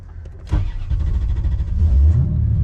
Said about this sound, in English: You got to blip the throttle a little bit to start it.